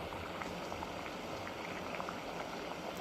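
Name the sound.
water boiling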